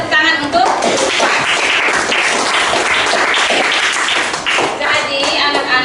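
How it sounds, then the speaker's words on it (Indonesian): Schoolchildren in a classroom clap for a classmate, a loud, close burst of many small hands slapping with uneven, lively rhythm lasting several seconds, with young voices mixed in. "tepuk tangan untuk Drupa"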